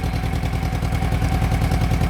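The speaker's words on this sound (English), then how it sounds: "that's the sound of a Mighty V4" A Mighty V4 engine runs in a van, a steady, close, rhythmic idle with a low pulsing chug and some clatter throughout.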